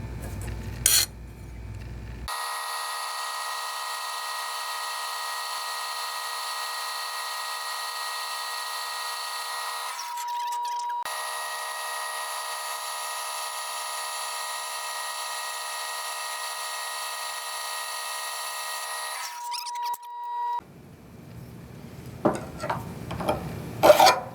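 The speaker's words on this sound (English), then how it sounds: "we're going to put this in the bandsaw and cut it right down the middle" A bandsaw cuts down the middle of a metal flange in a garage workshop, a steady high whining drone that runs for about eighteen seconds with a brief break partway, then handling clatter at the end.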